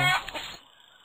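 A chicken gives a short, close burst of clucking that fades within about half a second into quiet background, with no talking.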